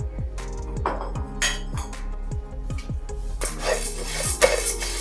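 Urad dal being dry roasted in a pan for idli podi: scraping and stirring strokes of a spoon against the pan repeat in a steady rhythm, close and clear, with occasional clinks.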